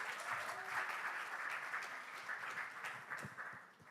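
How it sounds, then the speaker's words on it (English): Audience applause at a social media convention, a steady wash of many hands clapping that holds for several seconds and fades slightly toward the end. "Clap for Anna, everybody."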